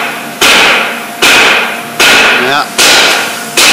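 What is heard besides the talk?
hammering a drum off a truck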